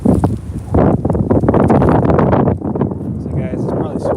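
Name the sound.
wind blowing into microphone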